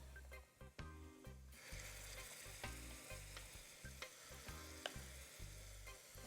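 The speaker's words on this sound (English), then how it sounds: "You're getting that sizzling effect." Melon seeds frying in hot oil, a dense, steady sizzle close up with crackles and small pops throughout, no talking.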